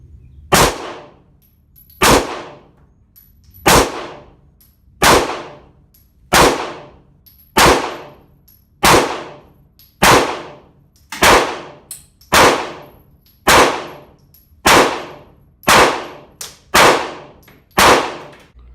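About fifteen loud pistol shots are fired indoors at a steady pace roughly a second apart, each a sharp crack followed by a short echoing decay from the room. No voices are heard.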